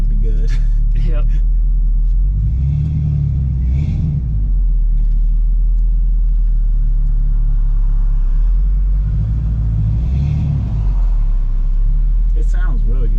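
A 1981 Chevrolet C10 pickup with an X-pipe exhaust idling and rumbling loudly nearby, deep and steady with a couple of swells, while people talk over it.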